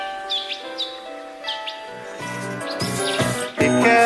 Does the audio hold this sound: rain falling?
no